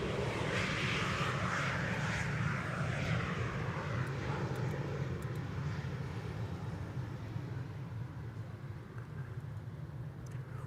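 KLM City Hopper regional airliner from Basel arriving on Schiphol's Polderbaan runway 18R, a steady, moderately distant jet roar that slowly fades.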